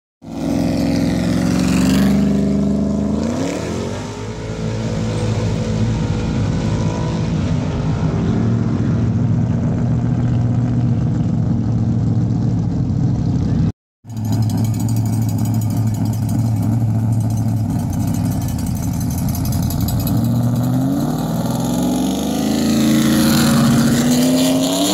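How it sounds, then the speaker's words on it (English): Several race car engines idle and rev nearby at a track, a loud continuous roar rising and falling in pitch as they warm up, with a brief cut partway through. "we already got cars going. Cars warming up."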